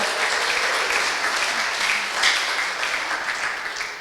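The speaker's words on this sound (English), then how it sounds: "Give her a round of applause." Seminar audience applauding steadily for about four seconds, a dense, even wash of many hands clapping close by with no voices over it.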